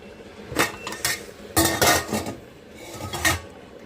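A metal pot lid lifted and set back while curry and rice cook at home, giving a few sharp clanks and scrapes in short bursts with quiet gaps between, close by and without speech.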